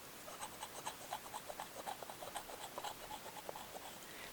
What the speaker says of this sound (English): So this is the ZACK GALLAGHER, the sound of the paint after 1 month of playing it